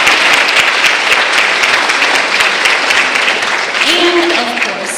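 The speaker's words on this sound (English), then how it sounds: "Big round of applause for them." An auditorium audience at a junior high band's spring concert applauds in a loud, continuous wash of clapping, which thins slightly toward the end as a voice begins underneath.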